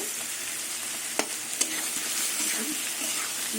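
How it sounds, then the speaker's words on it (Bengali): Ginger, chillies, cumin, coriander and turmeric fry in a pan with a steady, close sizzle, punctuated by two sharp spoon taps and soft stirring scrapes. "সব কিছু দিয়ে আবার একটু ভাজা ভাজা করে নেব"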